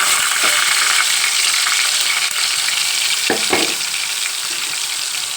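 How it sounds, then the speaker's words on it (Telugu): Freshly ground masala and chilli powder sizzle loudly and continuously in hot oil for a keema curry, with a few soft scraping stirs of a spoon; no voices. "ఇప్పుడు ఆయిల్ మరిగింది కాబట్టి మనం మిక్సీ పట్టుకున్న ఈ మసాలా కారం వేద్దాం"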